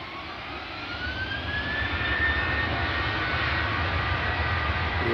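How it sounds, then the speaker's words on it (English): A Jet2 airliner's jet engines on the runway at Glasgow Airport, a broad roaring rush with a rising whine that swells gradually from moderate to loud at a distance, with no talk. "This Jet 2 plane has went way back, right to the end of the runway."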